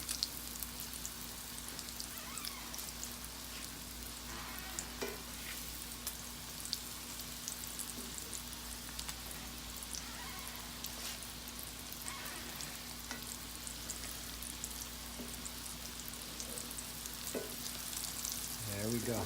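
Salmon croquettes fry in a pan with a soft, steady sizzle and light crackle, fairly quiet and continuous, with no talking.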